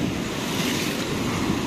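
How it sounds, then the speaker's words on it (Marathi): Sea waves surge against the rocks at Bhandarpule near Ganpatipule beach in Maharashtra, a broad, continuous roaring wash mixed with wind buffeting the microphone. "पाणी बरंच मारतंय वरती"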